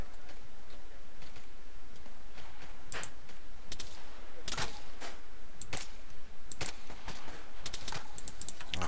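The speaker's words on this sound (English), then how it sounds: "You're getting shots over your head." Gunshots crack in a military video game during Op Steel Rain: scattered sharp reports, some louder and nearer, others faint, pop irregularly over a steady background hum while radio-style talk carries on.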